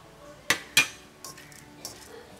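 A metal lid set onto a pot, two sharp clanks close together and then a few lighter clinks as it settles, near and fairly crisp against a quiet kitchen.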